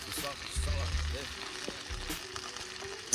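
Food fries in a pan while being stirred with a wooden spatula, a faint crackling sizzle with soft scraping and knocks against the pan, short sounds scattered through a quiet stretch.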